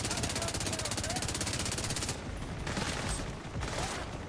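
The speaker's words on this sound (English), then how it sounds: "I'm being suppressed by a heavy gunner over there." Sustained rapid machine-gun fire from a heavy gunner in The Division 2, loud and continuous, briefly dipping before resuming in bursts, with faint voices underneath.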